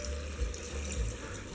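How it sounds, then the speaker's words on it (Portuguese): Water runs steadily into a pot of beef heart that has been seasoned with colorau and salt, pouring in a continuous close splashing stream without a break. "Coloca água"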